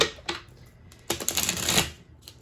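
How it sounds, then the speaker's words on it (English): Quick riffling bursts of tarot cards being shuffled close by, a short flutter followed by a longer run of rapid card snaps. "Let me just give the cards a quick shuffle here."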